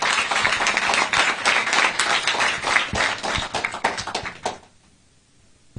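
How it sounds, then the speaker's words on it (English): An audience claps in sustained, dense applause at a press conference in Lagos. The clapping is loud and even, then fades out quickly toward the end, leaving near silence. "Another round of applause, ladies and gentlemen"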